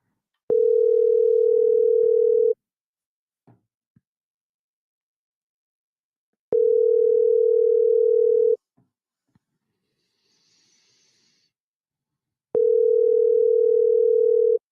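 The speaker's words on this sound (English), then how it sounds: "Sue, answer your phone, my friend." A telephone ringback tone on an outgoing call, three steady two-second rings spaced about six seconds apart, clear and alone with near silence between them.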